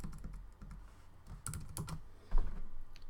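Computer keyboard being typed on: quiet, close, irregular key clicks in short bursts with small pauses, no speech over them.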